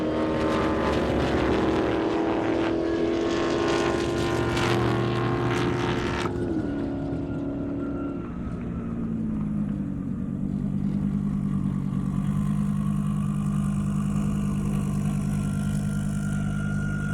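High-speed run at an airstrip racing event, Ryan Hopkins' Lamborghini beside Seth Moore's Camaro: a loud, steady engine roar whose pitch climbs and then drops sharply around the midpoint, sustained throughout with no talk.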